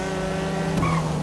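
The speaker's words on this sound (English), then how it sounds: "It sounds like a raspy old car like it should." A classic Weeny Issi mini car in the video game GTA 5, its raspy old engine holding a steady, buzzing drone before the pitch briefly shifts near the end.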